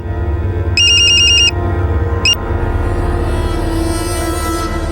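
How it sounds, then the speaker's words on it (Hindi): A phone rings on a television crime drama set: a sharp electronic ringtone bursts out in one sustained stretch of repeated tones, then a short second ring follows, playing over a low, steady room hum. "बात कर, उठा फोन।"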